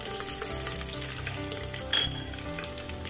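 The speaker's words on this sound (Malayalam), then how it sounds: "നമ്മൾ ഉണ്ണിയപ്പത്തിലേക്കൊക്കെ വറക്കണ പോലെ തന്നെ നമ്മൾ തേങ്ങയൊക്കെ ഒന്ന് പകുതി വാടി വന്നിട്ടുണ്ട്" Coconut pieces and chopped shallots fry in oil in a pan, a dense, loud, close sizzle with stirring scrapes throughout, no voices.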